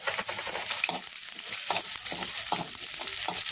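Onion with cardamom, bay leaf, cinnamon and cloves fries in a pan, a continuous close sizzle broken by repeated scraping strokes of a spoon stirring the mixture.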